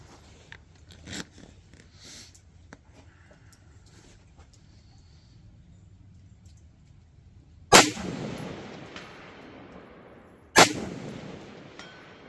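Two loud, sharp gunshots from a Bear Creek Arsenal 16-inch 5.56 rifle firing at a 300-yard target, a few seconds apart, each with a decaying outdoor echo after quiet background.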